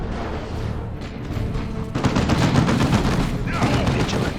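Dense, continuous gunfire from the video game Warhammer 40K Dawn of War II Chaos Rising, with rapid bursts and booms layered into a loud, unbroken battle din.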